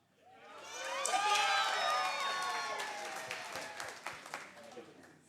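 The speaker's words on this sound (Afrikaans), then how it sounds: "as jy jou groep sien, wil ek hê jy moet cheer en vir jouself hande klap" Graduates at a graduation ceremony cheer and clap for their group photo, a swelling wave of high excited shouts and whoops over scattered applause that slowly fades into sparse claps.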